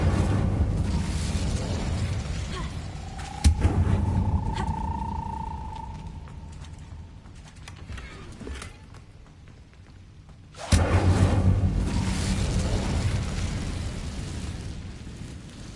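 Incendio fire spell in Hogwarts Legacy: a sharp burst into a whooshing, roaring blaze that slowly dies down, followed later by a second loud burst and sustained crackling rush.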